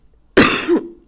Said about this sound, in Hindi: अभी भी मेरी जो है खांसी कुछ खास ठीक नहीं हुई है।